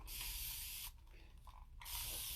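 Spray bottle misting water onto unfinished wood, two close bursts of hissing spray separated by a short pause, loud and with no talking.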